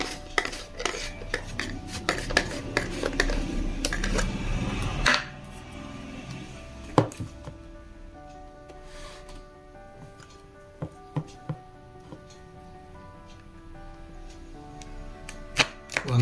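A knife cuts fruit for a Herbalife Dinoshake, with sharp clicks and taps against a board and dishes, busy at first and then sparser and intermittent.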